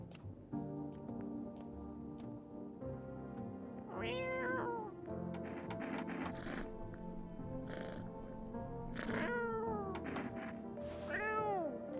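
A cat in the video game No I'm Not a Human meows repeatedly, several drawn-out, fairly clear cries spaced across the stretch over a quiet droning game background.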